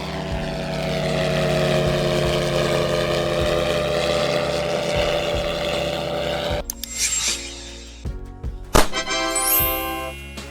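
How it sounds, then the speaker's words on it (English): A military drone flies past with a droning propeller engine that holds steady and close, then cuts to sharper, shifting engine and whine sounds with brief clicks near the end. "Military drone."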